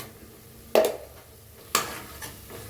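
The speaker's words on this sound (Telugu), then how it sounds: "ఇదంతా పచ్చివాసన పోయి ఆయిల్ పైకి వచ్చేదాకా ఫ్రై చేసుకోవాలి దీన్ని" Mutton frying in oil with chilli powder and ginger garlic paste, with two sharp stirring scrapes of a spoon against the pan over a low steady sizzle.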